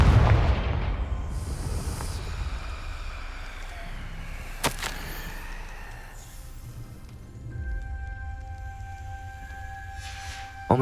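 Confringo explosive spell cast in the Hogwarts Legacy video game, a loud blast at the start fading into rumble, followed by a sharp crack midway and lingering ambient tones.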